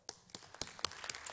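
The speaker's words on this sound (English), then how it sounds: "why don't you give us a big applause to the panelists" Sparse, faint claps from a small audience at a fake-news panel session, a handful of separate hand claps spaced irregularly in a quiet room.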